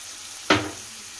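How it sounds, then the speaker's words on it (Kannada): Capsicum and beans frying in a pan after carrot, a low sizzle broken by one sharp stir or toss about midway, fading quickly back to the quiet hiss. "ಹಾಕ್ಕೊಂಡು ಒಂದೆರಡು ನಿಮಿಷ ನೋಡಿ ಈ ರೀತಿ ಚೆನ್ನಾಗಿ ಫ್ರೈ ಮಾಡ್ಕೊಳ್ತೀನಿ"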